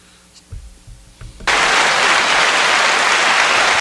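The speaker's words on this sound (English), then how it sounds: "I was a little tardy with that applause button" A canned applause sound effect fired from a button on a basketball podcast cuts in abruptly after a moment of quiet room noise with a few thumps, then holds as a loud, even wash of clapping.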